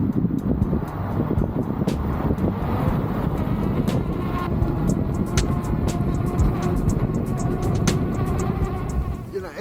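Continuous city road traffic rumble with cars passing nearby, mixed with buffeting wind on the microphone and occasional clicks and knocks over the steady noise.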